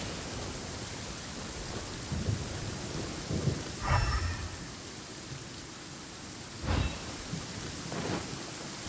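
In the video game Genshin Impact, steady rain hisses while low thunder rolls and cracks in several separate rumbles, one sharper close clap standing out, with no voices.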